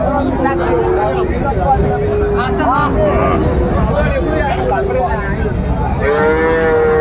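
A Friesian or cross-breed bull calf at a Dinajpur cattle market gives several loud, drawn-out moos close by, while people talk in the background.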